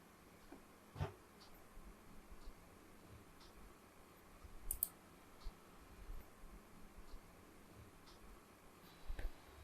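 Computer mouse clicking while setting up Windows 11 on an external hard disk, a few sparse, quiet clicks spread over a faint room hush, close but soft, with no voice.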